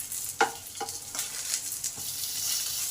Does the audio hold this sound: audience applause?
no